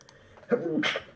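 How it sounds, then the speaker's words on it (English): A single close sneeze bursts out after a brief quiet breath, sharp and loud, then fades. "Excuse me, that was a sneeze."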